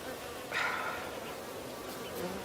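Bees buzzing close by in the Amazon rainforest, a steady droning hum with a louder swell as one passes near.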